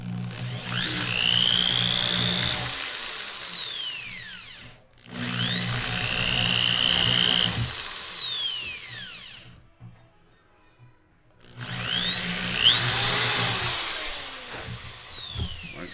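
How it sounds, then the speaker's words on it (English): Power drill with a 5/64 bit boring holes in aircraft elevator halves: three sustained whining bursts, each rising then dropping in pitch, separated by short pauses, close and fairly loud with no voices. "And then just drill those out."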